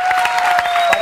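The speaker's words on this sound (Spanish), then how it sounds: "un aplauso enorme para todos los que hicieron este programa" Studio audience clapping in a television studio, a short burst of dense, loud applause with a steady whistling tone running through it.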